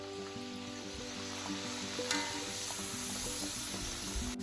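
Sakinalu, spiral Telangana rice-flour snacks, frying in hot oil with a steady, dense sizzle and scattered small pops throughout, close and continuous.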